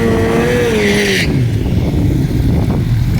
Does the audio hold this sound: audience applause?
no